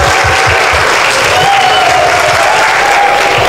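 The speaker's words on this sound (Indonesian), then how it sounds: "tepuk tangan dulu" Large crowd of new university students clapping together during a campus orientation event, loud, dense, continuous applause filling the whole stretch, with a faint voice underneath.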